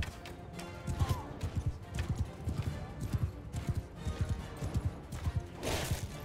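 Horse hooves clop in a steady trotting rhythm in Mount & Blade II: Bannerlord during a siege, close and distinct, with a brief crash near the end.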